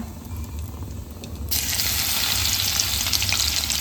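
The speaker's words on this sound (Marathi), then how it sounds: "आणि आपण ठेचलेला लसूण टाकायचा आता फोडणीला." Crushed garlic hits hot tempering oil spiced with cloves, cinnamon, bay leaf and asafoetida, bursting into a loud, steady sizzle that starts halfway through and continues close up, with no talk.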